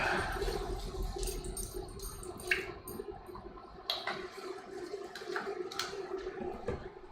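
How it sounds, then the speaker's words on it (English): Chicken broth splashes into a cooking pan with lime juice and mashed ingredients, a near, uneven liquid pour with soft sloshes and squishy bursts, no voices. "A little bit of chicken broth."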